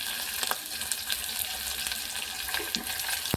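Onions frying in a pan for a Telugu-style pappu charu (lentil soup), giving a steady soft sizzle with faint crackles and a few light clinks, fairly quiet and with no talk.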